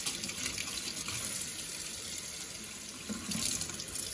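Tap water runs steadily into a sink while a stamp-cleaning scrub pad is rinsed, a continuous splashing hiss that swells slightly near the end, with no voices.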